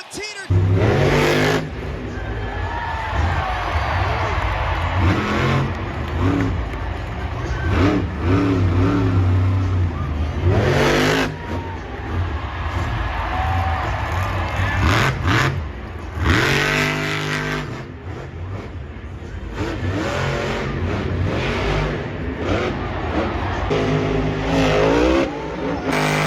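A monster truck engine roars and revs hard through a stunt run as the strained truck starts to give out, with loud surging bursts, brief drops and tire noise, under steady commentary and crowd noise.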